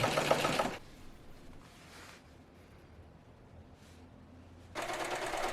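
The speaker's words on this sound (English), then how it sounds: "then stitching it down for a clean and finished seam" A chainstitch sewing machine runs in two short bursts while stitching down a folded seam on a denim jacket, with quiet pauses between the runs and no talking.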